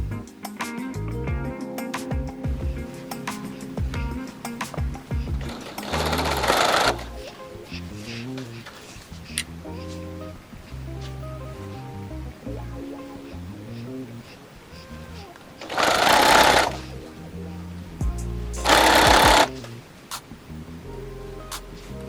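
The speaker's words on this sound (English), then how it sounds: "getting it through the sewing machine" A sewing machine whirs in short bursts of rapid stitching while sewing a fabric height chart, separated by quieter stretches of shuffling and handling of fabric.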